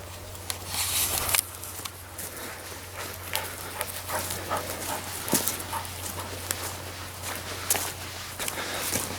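A dog walks over icy ground in windy outdoor weather on a peninsula, with steady crunching footsteps and quick panting breaths running throughout, over a low constant wind hum.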